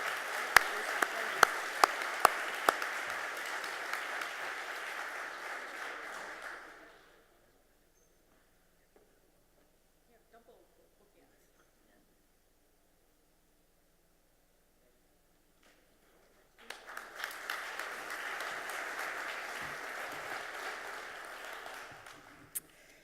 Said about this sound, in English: a big round of applause for these 2 individuals.